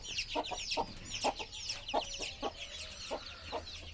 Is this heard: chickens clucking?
yes